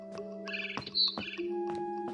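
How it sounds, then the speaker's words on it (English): A barn swallow chirps in the video game What Remains of Edith Finch, a string of short, bright tweets and trills repeating quickly, clear and fairly close against quiet background. "Then I heard chirping outside my window."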